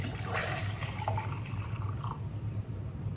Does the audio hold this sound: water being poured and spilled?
yes